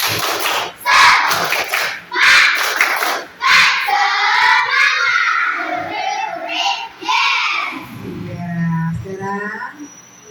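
A school class claps in a rhythmic spirit-clap pattern, with several voices chanting together between the claps, loud and close.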